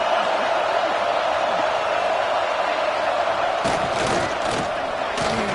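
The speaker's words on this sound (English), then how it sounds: "And the crowd really making some noise now, trying to help out this defense to get this stop near the goal line." A stadium crowd roars in a college football video game near the goal line, a dense, constant wall of noise with several louder surges and claps toward the end.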